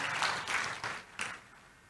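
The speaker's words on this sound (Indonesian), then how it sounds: "Tepuk tangan yang meriah buat Tuhan kita Yesus" A short burst of scattered applause from a church congregation during a sermon, a few rounds of clapping that quickly fade out.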